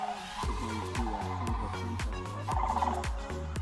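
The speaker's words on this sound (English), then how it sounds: "There we go. Sandhill cranes." Loud rolling, trumpeting sandhill crane calls repeat in quick bursts, overlapping as several cranes call close by without pause, at Okefenokee National Wildlife Refuge.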